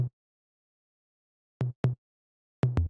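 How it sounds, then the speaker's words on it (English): An 808 tom run through overdrive, compression and sidechaining thumps five times, a single short hit followed by two quick pairs of punchy, low, gritty beats separated by clean silence. "just an 808 tom, going through some overdrive"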